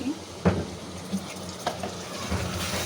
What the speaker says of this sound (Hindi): और इसे भी पहले पानी की तरह हम अच्छे से भूनेंगे।